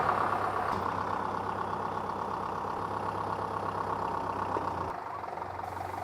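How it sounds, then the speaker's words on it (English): A 4WD vehicle's engine runs steadily with the centre diff locked and one wheel jacked up as it tries to drive off. The drone holds close and even, then shifts and eases slightly near the end, with no talking. "the vehicle actually tried to drive forward"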